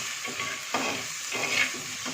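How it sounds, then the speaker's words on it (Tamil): Tomato sautéing in a pan for semiya (vermicelli) upma, giving a steady close sizzle with soft stirring scrapes and brief louder bursts as the pieces are moved. "ஸோ நல்லா தக்காளியும் வதங்கட்டும்."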